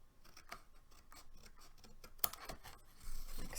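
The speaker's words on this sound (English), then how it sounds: "I'm going to just trim these pieces off." Scissors snipping excess paper off a handmade card flower, a quiet series of close, crisp cuts with a sharper snip near the middle and rustling paper toward the end.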